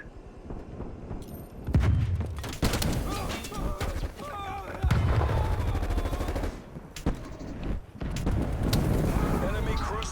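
Loud cannon gunfire in a video game comes in repeated heavy bursts, separated by short pauses, with talk and game voices mixed in among the blasts.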